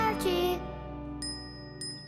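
Small bell jingles in a Thomas and Friends train cartoon, a bright chime at the start followed by two quieter tinkles later, with faint music underneath.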